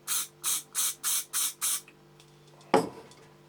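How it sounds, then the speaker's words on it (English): Six short, even hissing bursts from a spray paint can into a lid in a steady rhythm, then quiet and a single clunk near the end. "Again, we'll just spray a little bit into the lid."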